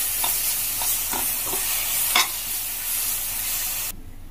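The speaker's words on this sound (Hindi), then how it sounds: "ये मसाला डाल दिया है, इसको अच्छे से भूनना है।" Ground masala paste fries in a pan with onions for chola do pyaja, sizzling steadily while a spoon scrapes and stirs it in several quick strokes, close up and without voices, until the sizzle suddenly drops away at the end.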